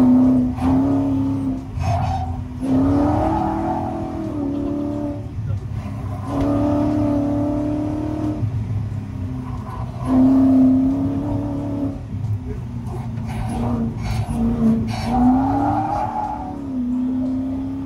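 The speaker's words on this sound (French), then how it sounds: "Franck met en travers la GT40." A Ford GT40 race car engine revs and wails repeatedly on a dry circuit, pitch sweeping up and down through drifting runs, with a voice talking over it at times.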